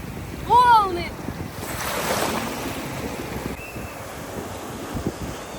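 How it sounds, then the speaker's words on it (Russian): Ocean surf rolling onto a sandy beach on Phu Quoc, Vietnam, a broad wash of waves with wind buffeting the microphone, while a short bright whistle-like call rises briefly near the start. "Волны!"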